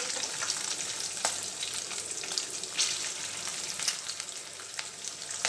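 Green chillies and chilli powder fry in hot oil in a pan, giving a steady, dense sizzle with scattered crackles and pops that continues without a break and with no voices.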